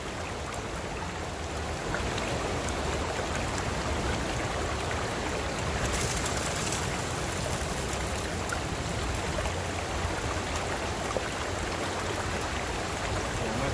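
Water rushes through a gold sluice box in a steady, dense wash, a continuous nearby stream-like flow with no pauses.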